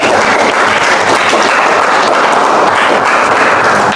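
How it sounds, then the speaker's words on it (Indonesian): A classroom of junior high students claps loudly and continuously together, a dense steady burst of hands close by with no talking. "tepuk tangan untuk kita semua"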